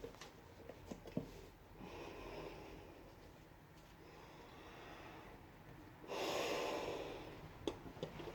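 A breath drawn in through a Spanish M3-77 gas mask with a filter fitted: faint airy rushes rise and fall, with one louder inhalation near the end, and no talking.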